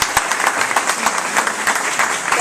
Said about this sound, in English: So I ask everybody to give a big applause to our lawyer, Linda Vega.